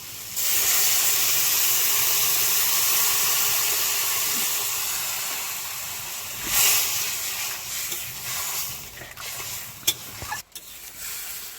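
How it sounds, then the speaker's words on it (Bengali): Water hitting a pan of sautéed potatoes for a fish curry, a loud rushing steam hiss that fades gradually over several seconds, followed by quieter bubbling and a few sharp clicks and knocks near the end. "আলু আমার কষানো হয়ে গেছে এখন জল দিয়ে দেবো"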